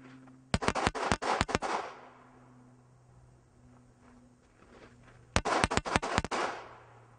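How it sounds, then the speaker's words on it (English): Two rapid volleys of gunfire from several shooters firing together during a multiple-target firearms drill on an outdoor range, each burst a dense cluster of loud, sharp cracks, separated by a few seconds of quiet with a low steady hum. "getting all that good, efficient shooting practice in while we're doing it"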